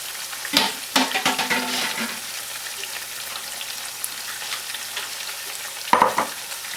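Finely chopped onions for a Spanish tortilla added to a pan, giving soft sizzling with a few sharp stirring scrapes near the start and end, close and fairly quiet, no talk.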